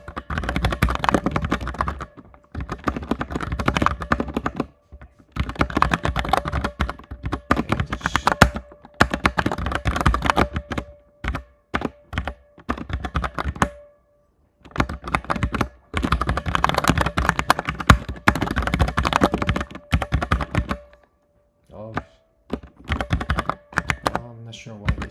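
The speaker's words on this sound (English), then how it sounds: "I'm just typing in the exact source file in the tutorial folder." Computer keyboard typing while entering a C++ source file from a tutorial, steady bursts of close, clicky keystrokes in runs separated by short pauses, loud and mostly alone.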